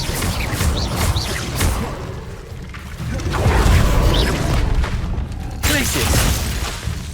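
Hogwarts Legacy combat in which a cast Expelliarmus spell lands with a loud booming burst and whooshing crackle, surrounded by dense rumbling battle effects and a shouted incantation.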